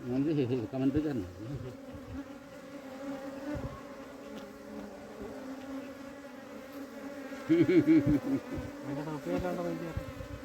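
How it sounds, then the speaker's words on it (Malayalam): Honeybees swarm in the air after being smoked while being moved from a ground nest into a hive, a dense, steady buzz that rises and falls, swelling louder near the start and again toward the end. "പുകപ്പിച്ചപ്പം തേനീച്ചകളുടെ പറക്കം"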